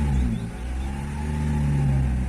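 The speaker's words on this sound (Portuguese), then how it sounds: "Completou, vou dar uma aceleradinha pra vocês verem." A car engine revs in a smooth rising sweep and then holds at higher revs, loud and close, with no voices over it.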